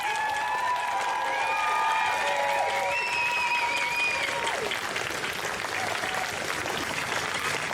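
A crowd at the Trans Pride March in Melbourne claps and cheers steadily throughout, with whistles and cheering voices sliding up and down above the applause.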